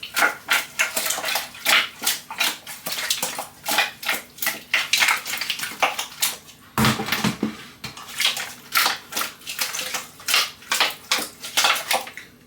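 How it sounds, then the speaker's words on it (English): Raw meat being mixed by hand with ginger and garlic in a pot, producing rhythmic wet squelching and slapping sounds that repeat steadily, close and fairly loud. "mix all these meats the way I'm doing it like this"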